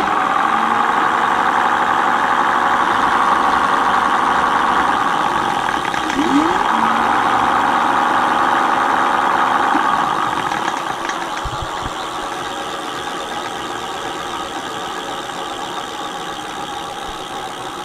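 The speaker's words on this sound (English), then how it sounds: "So it's still noisy, but it is quieter. Give it a try on the throttle." The motor of a mate X 20x4 fat tyre electric bike runs on the throttle after a grease fix, a steady whining hum with a mechanical rattle that drops in level and pitch partway through as it winds down.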